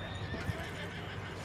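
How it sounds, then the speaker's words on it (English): Horse whinnying in a video game, a steady neigh with clip-clop hooves running under it, close and fairly loud throughout the short stretch. "And get on your horse."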